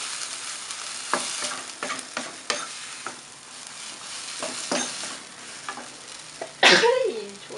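Glass noodles stir-fried in a pan after water from rinsing a garlic-and-chili mortar is added, giving a close sizzle with repeated scraping strokes and a loud burst of hissing near the end.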